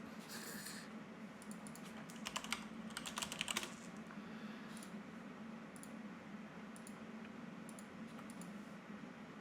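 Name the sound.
typing on a computer keyboard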